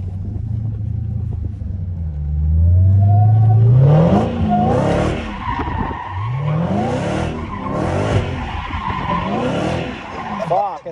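Dodge Hellcat driven with a PS4 controller spinning out: the engine revs up hard and climbs, then breaks into rough, skidding tire noise and rumble, with voices talking over it.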